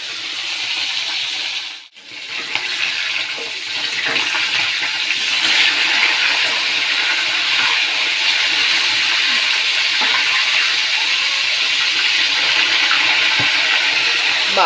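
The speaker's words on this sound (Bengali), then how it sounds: "এই মাছও ফাটছে," Pieces of stingray fish fry in hot oil with a loud, continuous spluttering hiss, broken only by a brief dip early on, and no voices.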